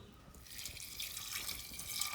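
Water pours into a pressure cooker holding vegetables, turmeric, chilli powder and salt, a soft, steady splashing trickle that builds slightly over about two seconds, faint and close with no voices.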